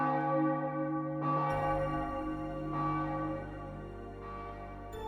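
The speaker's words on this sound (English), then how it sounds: "The bell chimed." A church bell chimes in slow, resonant strokes, each sustained and overlapping as it rings out loud and clear with no talking.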